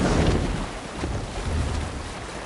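A Viking longship under raised sail in Assassin's Creed Valhalla, with a steady rush of wind and water across the hull, fairly loud and continuous with no voices.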